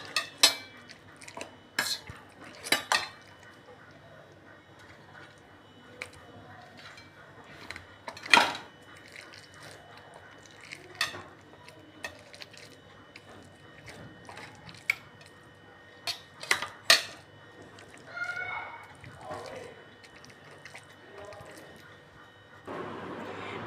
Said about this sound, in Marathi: आता आपण ही स्मॅशरने स्मॅश करून घेऊया सगळ्या भाज्या